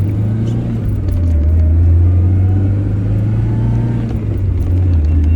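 A Tofaş Doğan SLX car cruises along a road with a loud, steady low engine drone and road rumble heard from inside the cabin, the pitch shifting slightly near the end, with no talking.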